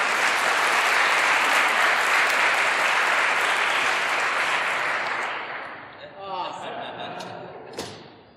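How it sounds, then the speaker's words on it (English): An audience at a lecture and Q&A in Perth breaks into loud sustained applause that fades out after about five seconds, followed by a few scattered claps and thumps. "Give him a round of applause."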